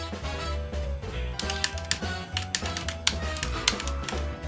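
Rapid, close computer keyboard keys clatter in uneven bursts while a kart racing game is played, with bass-heavy game music underneath and no talking.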